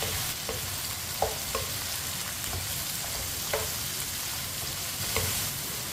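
Tomatoes and green chilies cook in a pan, giving a continuous soft sizzle broken by a few light scraping stirs spaced a second or two apart, with no talking.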